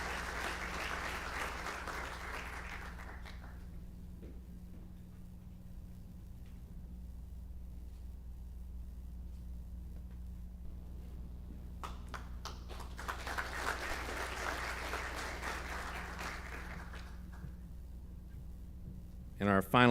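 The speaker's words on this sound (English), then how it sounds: "Let's go ahead and give her a round of applause." Clapping swells up from an audience at the 2025 GSC awards ceremony, fades into quiet room murmur, then rises again in a second burst of applause.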